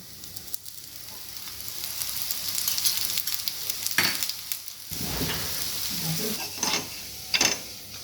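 Adai dosa sizzles steadily in oil on a hot pan, with occasional louder scraping and stirring clicks as it is turned; no one speaks.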